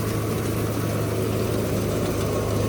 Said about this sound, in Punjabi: ਵਧੀਆ ਚੱਲਦੀ ਆ ਮਸ਼ੀਨ